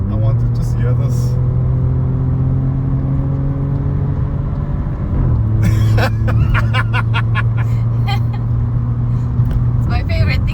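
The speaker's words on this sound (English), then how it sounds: "you have a car that sounds like a mini 6-cylinder" A modified VW Polo's engine revs hard in manual sport mode, dropping gears with rising and falling whines and a sharp burst of crackles midway, loud and close, while voices chatter underneath.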